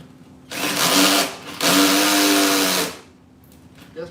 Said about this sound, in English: Guess my drill ain't strong enough for this